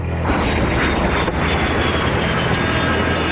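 An F-117 Nighthawk jet roars loudly and steadily on takeoff, a dense, close engine rumble with no break.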